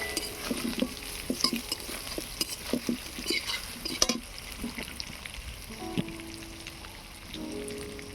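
Potato pieces and coriander leaves stirred into onion and garlic already frying in oil for a katla fish curry, with steady sizzling under repeated scraping and clattering of a spatula against the pan, close and moderately loud.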